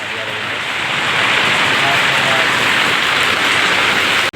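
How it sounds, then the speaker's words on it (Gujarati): Loud, steady downpour drums on a surface in a thick continuous roar, building slightly after the first second and cutting off abruptly. "વરસાદ અટાણે ફૂલ ચાલુ હે"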